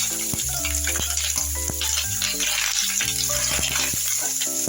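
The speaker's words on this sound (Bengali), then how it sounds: "এগুলো আমি ভেজে নিব।" Fish roe frying in white cooking oil in a karahi, a steady loud sizzle running throughout with intermittent tonal clinks and scraping from stirring, no talking.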